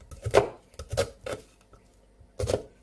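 A knife slices down through an onion on a board in a few crisp, separate cuts, with short pauses between strokes and a longer gap before the final cut.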